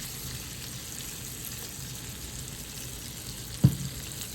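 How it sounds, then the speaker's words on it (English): Bacon and caramelized onions fry in a pan with dumplings during a cooking demonstration in Illinois. A steady, even sizzle runs throughout, with one dull knock near the end. "So I'm going to just add the onions. I'm going to add your bacon."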